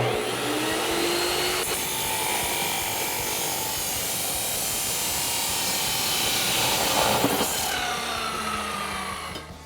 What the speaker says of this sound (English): I'll meet you over at the saw to make our cut